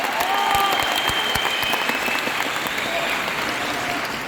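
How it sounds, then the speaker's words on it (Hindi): Award-function audience breaks into loud, sustained applause that holds steady for a few seconds, with crowd noise and some voices mixed in beneath the clapping. "तो एक जोरदार तालियां बनती है बाली सर के लिए।"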